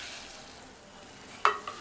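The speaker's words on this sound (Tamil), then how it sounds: "சேர்த்துட்டு அடிக்கடி இந்த மாதிரி கிண்டி கொடுத்துட்டே இருங்க." A faint, steady scraping of a spoon stirring soaked sago in boiling water in a pot for payasam, ending in a short clink near the end.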